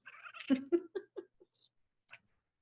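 A pet cat meows indoors by a computer, a loud drawn-out cry followed by a few shorter, fading meows.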